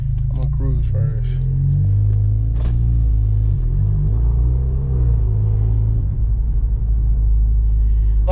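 Modded, tuned Alfa Romeo Giulia in a video game cruising steadily, its loud, continuous low engine rumble droning throughout while a voice talks briefly over it.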